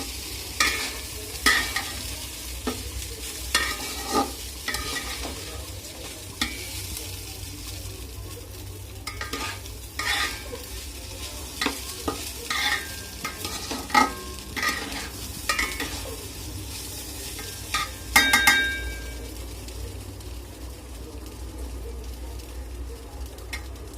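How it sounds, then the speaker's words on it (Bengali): Marinated rice fries in a pan for sweet yellow pulao, a steady low sizzle broken by repeated scraping strokes of a spatula against the metal, close up. "চালটাকে আমি খুব সুন্দরভাবে ভেজে নিয়েছি।"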